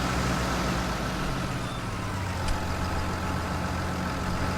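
A tractor engine from Farming Simulator 19 drones steadily throughout, a loud low idling rumble with a constant hum and no talk over it.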